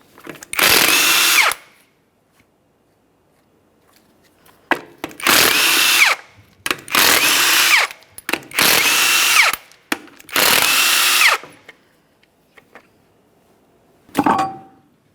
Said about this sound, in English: you have 5 19mm lug nuts in a center cover. Let's remove all of those.